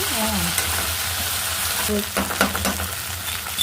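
Drumstick pieces (moringa pods) fry in a pan with onion, curry leaves, salt and turmeric, giving a steady close sizzle broken by a few scraping stirs.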